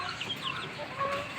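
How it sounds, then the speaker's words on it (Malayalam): Black karinkozhi chickens and native hens on a farm make soft scattered clucks and chirps, a steady low farmyard murmur close by with no talking. "ഇതിൽ തന്നെ ഒരു 10-20 എണ്ണം കോഴികളുണ്ട്. കരിങ്കോഴിയും ഉണ്ട് അതിനകത്ത്"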